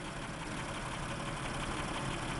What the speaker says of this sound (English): I've started it for you. You can hear how quiet it is. This has the 3100 V6 engine in it.